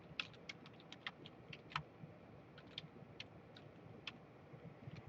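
Quiet, close typing on a computer keyboard, a string of light irregular key clicks over a faint background hum.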